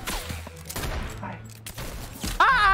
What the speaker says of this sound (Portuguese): tem um maluco atirando em mim de longe